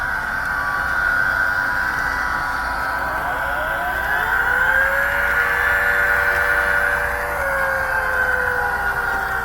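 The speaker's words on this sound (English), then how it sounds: "Is that an air raid siren right here?" A sound unit installed in an HO-scale DD40X model locomotive plays an air raid siren. The steady wailing tone rises and falls in pitch over a continuous mechanical whir and stays loud throughout.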